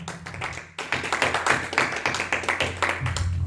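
A church congregation clapping together in worship, with a brief pause and then a rising burst of quick, rhythmic applause that fills the room.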